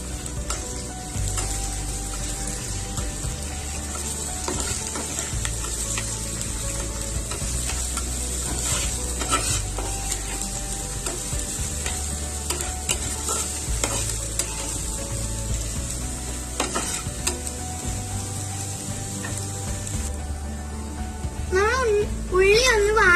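Crushed small shallots frying in hot oil in a pan for karimeen pollichathu, a steady close sizzle with intermittent scraping stirs throughout, over faint low background hum and a brief burst of birdlike chirps near the end.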